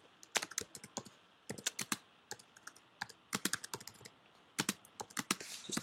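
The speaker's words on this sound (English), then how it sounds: "Just typing it out." Quick bursts of typing on a computer keyboard, close and crisp keystrokes in uneven clusters with short pauses between, alone without any voice.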